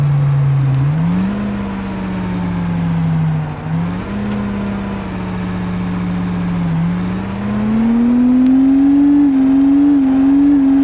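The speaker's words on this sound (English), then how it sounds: "full throttle. Giving us all the speed that I can get to try to get us up this hill" Truck engine in BeamNG straining at full throttle up a hill while towing trailers, a steady loud drone whose pitch sags and recovers several times, then climbs gradually toward the end.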